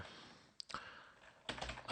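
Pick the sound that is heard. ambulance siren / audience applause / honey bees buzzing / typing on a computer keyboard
typing on a computer keyboard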